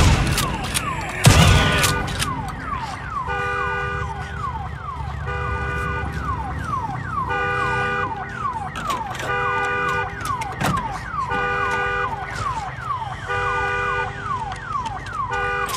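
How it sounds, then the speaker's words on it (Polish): Looping alarm siren in the Days Gone video game, a repeating wailing sweep with steady rhythmic tones that continues throughout, opened by a sharp loud burst like gunfire and with scattered thuds underneath. "pieprzony alarm"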